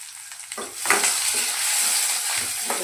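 Onion and curry leaves hit hot oil for a sardine curry, bursting into a loud sizzle after a quiet half-second, then crackling steadily with brief stirring sounds.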